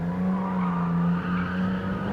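A BMW Z4 3.0i in Gran Turismo 7 lets out a continuous tire squeal as the tail slides, with the engine droning steadily underneath, close and loud throughout.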